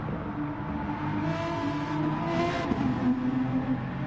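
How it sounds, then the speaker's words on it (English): Aston Martin race car engines rev and climb in pitch as they accelerate at Bathurst, rising and whirring at moderate distance with no talking. "Just hear the Aston boys just get on the power, the pair of them."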